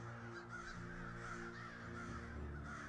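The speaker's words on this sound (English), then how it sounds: "Whenever something bad is going to happen on a movie, you hear a crow call in the distance." A crow caws in the distance, a few rough, harsh calls rising over a low, steady ambient hum of open outdoor air.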